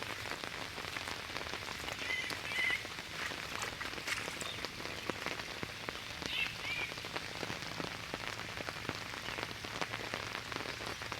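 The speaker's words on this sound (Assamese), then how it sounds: "কণ্টিনিউ এতিয়াও দি আছে বৰষুণ" Steady, continuous rain falls near a flooded tea garden, a dense even patter of drops close by, with no voices.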